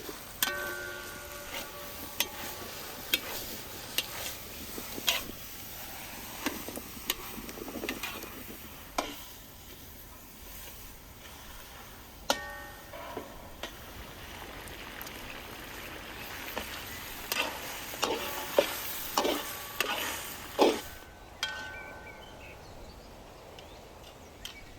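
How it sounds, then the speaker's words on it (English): Roasted pumpkin stirred into buttery onions in a pan, with a steady run of scraping and clinking strokes over a soft, low sizzle, no voices. "I'll mix it in well to let it soak up all that buttery onion goodness."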